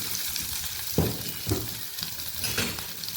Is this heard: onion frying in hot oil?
yes